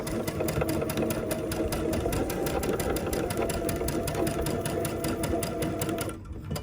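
A sewing machine stitches quilt pieces in a steady, rapid mechanical whir with a continuous fine rhythm, running close and constant for about six seconds before slowing and stopping at the end.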